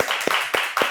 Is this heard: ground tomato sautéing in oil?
no